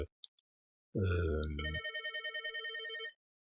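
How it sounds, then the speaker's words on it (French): A telephone rings with an electronic tone: a long buzzing burst, then a steady series of rapid pulsed trills, loud and close in an otherwise quiet room with no talk. "j'ai été interrompu par le téléphone"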